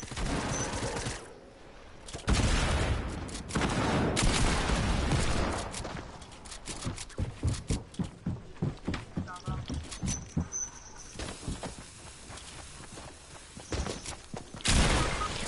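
Gunfire in a video game: bursts and rapid volleys of shots, some close and loud, others quicker and lighter, mixed with game noise while players talk over it.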